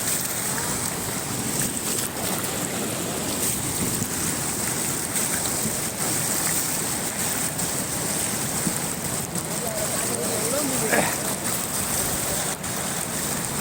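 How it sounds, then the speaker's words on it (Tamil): Water rushing out of the sluice gate of Chembarampakkam dam, a loud, steady broadband roar of churning flow that holds unbroken throughout, with a faint voice briefly audible beneath it. "ஸோ மதகுலேருந்து தண்ணி வந்துட்டு பாருங்க."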